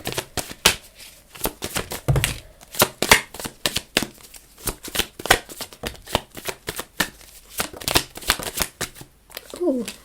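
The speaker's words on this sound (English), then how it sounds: "Let me pull some cards and get things together here." Tarot cards shuffled in quick riffling bursts, close and fairly loud, with a short pause partway through and a voice speaking briefly near the end.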